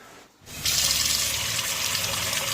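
Tap water running into a vessel while rice and lentils are washed for kanji, a brief quiet pause followed by a strong, steady gush of water, close.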